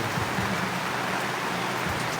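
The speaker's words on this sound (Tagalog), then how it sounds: "ayaw na talaga huminto ng ulan" Steady rain hisses over an open-air tiangge street market in Barangay Cuayan, Angeles City, Pampanga, a dense continuous wash with no voices.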